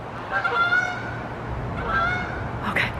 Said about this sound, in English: there was two big geese that just flew right over my head